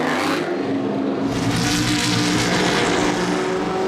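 A BMW endurance race car pulls out of the pit lane after refuelling at the Nürburgring, its engine a loud, sustained roar close by that builds as it accelerates away, with no voices.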